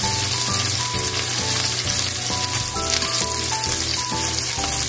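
Chicken thigh pan-fries with leftover ingredients for a mushroom dish, giving a steady, crackling sizzle throughout under background music. No voices.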